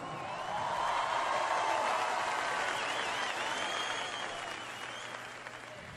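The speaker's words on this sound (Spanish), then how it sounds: "un aplauso" Large festival crowd at Viña del Mar applauding after a performance, a dense sustained wash of clapping and cheering that swells loudly then gradually tapers.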